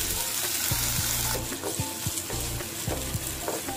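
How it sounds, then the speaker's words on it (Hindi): Chopped medium-sized tomato frying in a pan, a steady sizzle with occasional scraping stirs of a spoon cutting through it, close and unbroken. "तो इसे हम 1 से 2 मिनट तक भून लेंगे, टमाटर हमारा हल्का सा सॉफ्ट हो जाएगा"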